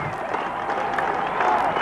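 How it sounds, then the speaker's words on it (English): Cricket crowd at a 1994 Sri Lanka versus Pakistan Test match, applauding and cheering after a boundary, a steady broad wash of clapping and voices with a slight swell near the end. "The crowd love it."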